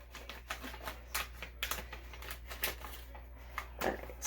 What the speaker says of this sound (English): Got my scissors and I'm opening up my packages.